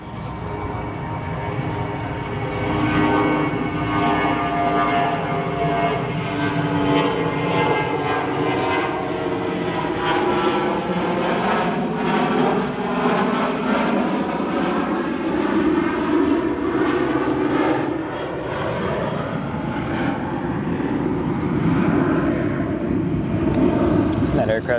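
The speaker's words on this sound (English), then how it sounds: "departing there, an Embraer 170, Republic Airways flight 3499, and Embraer 170 headed to Cedar Rapids, Iowa" An 18-year-old Republic Airways Embraer 170 regional jet departs O'Hare bound for Cedar Rapids, its engine roar loud and steady throughout, with a slowly shifting drone as it climbs away.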